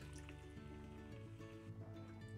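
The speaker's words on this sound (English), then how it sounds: "Now we add approximately 3 cups of water." Water is poured into a cooking pot of tomato-paste and thyme base for Bahamian rice, a steady, quiet trickle and fill running for a couple of seconds, close by with no talk.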